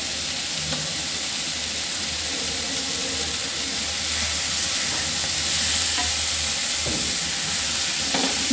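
Dried fish and Malabar spinach leaves stir-frying over medium heat, a constant loud sizzle and hiss with occasional scrapes of a spatula moving the food around the pan.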